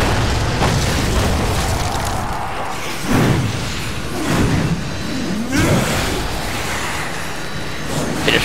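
Gunfire and explosions in the video game Darksiders 2 come as several heavy booming blasts with whooshing tails over a dense, continuous rumble of game sound.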